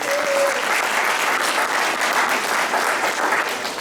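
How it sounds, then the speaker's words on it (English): A crowd at a Christmas celebration claps steadily and loudly for performers, dense applause filling the room without pause. "I'd like to give a big round of applause for all the people who performed today."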